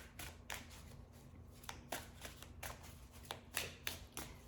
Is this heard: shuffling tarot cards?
yes